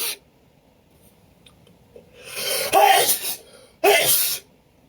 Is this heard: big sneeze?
yes